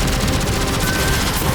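Destiny 2 blaster weapon in the Renegades setting firing a dense, continuous burst of sci-fi gunfire, loud and steady for the whole moment with no pauses.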